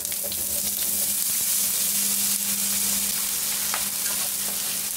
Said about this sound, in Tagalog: ipaprito muna natin ang ating salmon balls